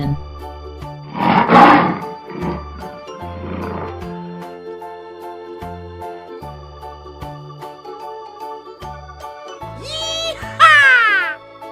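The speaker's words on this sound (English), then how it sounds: "Lion." A lion's roar in a children's animal-sounds lesson: deep, rumbling roaring bursts against a backdrop of bouncy music, loudest near the start, followed by a rising whoosh effect near the end.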